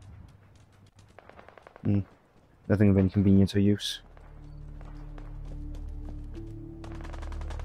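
Gunfire in the Fallout VR video game sounds as scattered sharp pops and clicks, some in quick bursts, while someone talks over a low ambient rumble.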